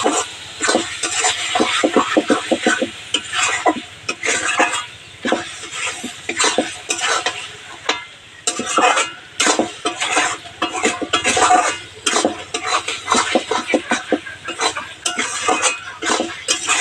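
Goat fat being sautéed with spices in a pot for moong dal, with loud, rapid scraping and clattering of a spatula against the pan over a sizzling undertone, stirred in quick irregular bursts.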